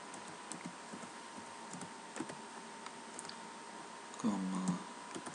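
Computer keyboard keys tapped in scattered bursts while column names are entered, faint and close, with a steady background hum and a brief low voice-like sound near the end.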